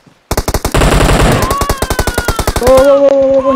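Machine gun fire in a battle royale video game: a loud, rapid, sustained burst of evenly spaced shots runs through the whole stretch, close and dominant, with a ringing tone rising over the later rounds.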